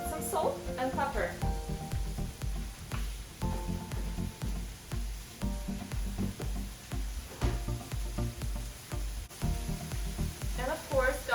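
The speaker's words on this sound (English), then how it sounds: "We're gonna saute mushrooms for about 7 minutes" Mushrooms and onions sauté in a pan with heavy cream, salt and pepper nearby, giving a steady close sizzle of frying with occasional stirring and scraping over about eleven seconds.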